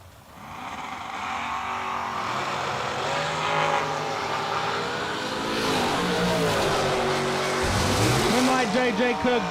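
A dragster launches at a drag-racing bracket event, its loud, close engine roaring continuously for nearly ten seconds, the pitch climbing and sweeping upward toward the end, with track ambience underneath.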